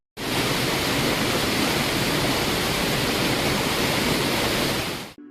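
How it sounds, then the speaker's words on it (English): A loud, steady rush of a Minecraft waterfall roars without pause, broadband and constant, ending abruptly. "finally a very loud waterfall, so headphone users beware."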